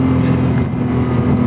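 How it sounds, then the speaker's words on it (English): A 2007 Porsche Cayman's mid-mounted flat-six engine drones steadily through its exhaust, a loud, close, sustained tone with no speech. "any flat six engine that Porsche produces, and it sounds just amazing"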